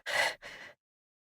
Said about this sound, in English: the heavy breathing climbing moans of Arataki Itto